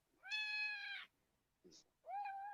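A cat meows twice, two clear drawn-out calls separated by a short pause, with a faint chirp in between, close and alone.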